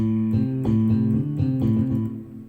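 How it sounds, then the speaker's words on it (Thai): A low plucked string bass tone from a Roland EA7 keyboard, several notes struck in a steady sequence, close and prominent, fading at the end. "หรือว่าสตริงเบส"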